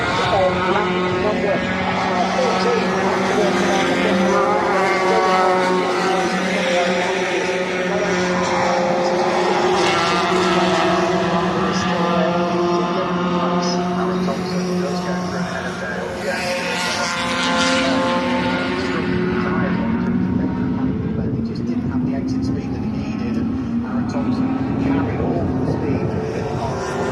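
Racing cars run nose to tail around the Brands Hatch circuit during an Easter weekend race meeting. Their engines form a loud, continuous, wavering drone under steady commentary.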